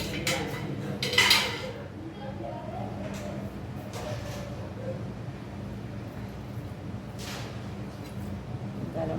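A lid goes onto a pot of rabri in a home kitchen with one sharp metallic clank, then low kitchen rumble continues under a voice.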